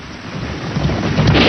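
Heavy cartoon rain pours down in a steady, loud hiss with low rumbling beneath, building slightly in intensity, no voices.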